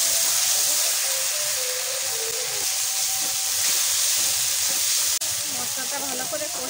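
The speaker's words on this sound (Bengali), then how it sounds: "ভালো করে মশলাটা কষিয়ে নেব।" Spice paste with red chili powder fries in a pan for a cauliflower and rohu fish curry, giving a steady, close hiss and sizzle throughout, with one brief sharp click.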